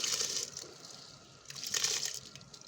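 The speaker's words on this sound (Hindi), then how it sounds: "अब हम डालते हैं इसमें अपने ये चावल" Rice tipped into dissolved jaggery syrup flavoured with cardamom for Punjabi-style sweet rice gives two bursts of splashing and hiss, one at the start and one mid-clip, close by with no talk.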